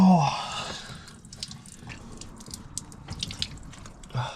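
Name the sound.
water running from foot-pump sink while rinsing off in van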